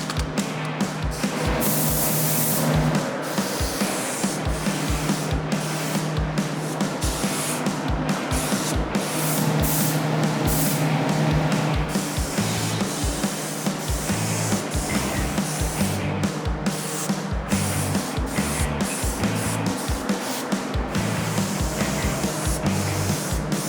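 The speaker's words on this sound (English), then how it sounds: "we can go now mix our paint and get to spraying these." A spray gun applies paint to OBS Chevy truck parts in a shop, with repeated hissing bursts separated by short pauses over a constant compressor hum, close and fairly loud, with no voices.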